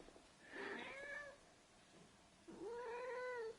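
A cat meows twice, two drawn-out rising-and-falling calls separated by a short pause, fairly close and clear against a quiet background.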